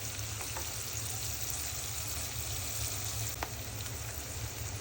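Chopped onion, salt and sliced green chilli frying in a pan, a steady dense sizzle running unbroken throughout with a few faint stirring clicks.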